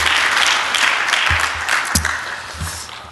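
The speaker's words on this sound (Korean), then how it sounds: "우리 전영봉 목사님 나오실 때에 우리 입으로는 할렐루야, 우리 손으로는 박수로 우리 만영하겠습니다." Church congregation clapping at a Sunday worship service in a Korean church, a dense steady wash of many hands fairly close and loud, with a few sharper claps standing out and no talk over it.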